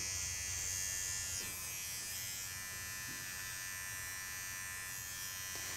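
Electric clippers trim the hair under the foot pads of a small Bichon Frise during grooming. A close, steady buzz hums throughout, with slight changes in tone as the blade moves. No one speaks.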